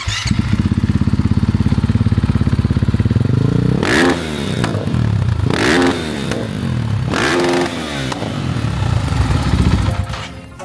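A KTM supermoto motorcycle engine idling with a rapid thumping beat, then revving hard in several loud bursts that echo strongly around the surroundings.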